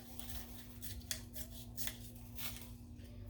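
Scissors cutting sublimation transfer paper for a camper mug, giving a few soft, close snipping and rustling sounds over a steady low hum, with no talking.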